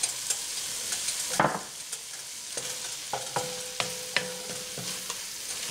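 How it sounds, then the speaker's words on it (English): Flour being stirred into a pan filling for leftover turkey shepherd's pie over heat, with a soft sizzle under repeated spoon scrapes and taps against the pan, close and fairly quiet. "stir this, turn the heat down, keep stirring till you can't see any flour"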